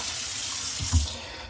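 Tap water runs steadily into a container for bread dough in a home kitchen, a continuous hiss with a brief louder splash near the end and no talking.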